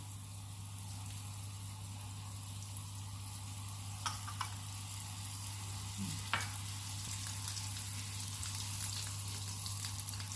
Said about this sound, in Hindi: पैन में 50 ग्राम मक्खन डाल देंगे।